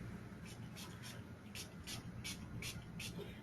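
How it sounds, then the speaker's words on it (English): A citric pH-balancing spray misted onto skin during a facial treatment, heard as a run of about nine short, regular hissing spritzes over a steady low background hum. "the number 4 spray, which is your last spray, is the citric spray"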